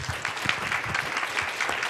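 A conference session audience claps after a talk on a peer reference and instruction program, with dense, even applause holding at a steady level.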